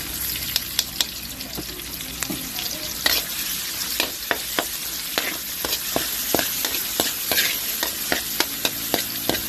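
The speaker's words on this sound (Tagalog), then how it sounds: "Tapos natin hanggang maging golden brown. At lumabas po yung aroma ng bawang at sibuyas." Garlic, onion and shrimp paste fry in hot oil in a pan, giving a steady close sizzle broken by frequent sharp clicks of a utensil stirring and scraping, with no voices.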